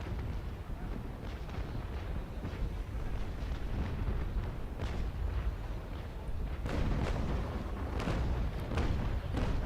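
Naval Action ship cannons firing shells in a continuous dense rumble of booms, several sharper blasts standing out near the end, loud and fairly close with no talk.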